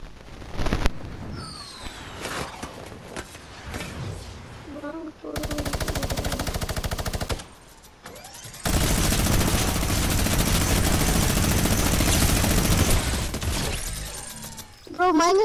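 Gunfire in the video game Fortnite: bursts of rapid automatic fire and loud shot sequences in several long blocks, broken by quieter gaps, with game effects between bursts.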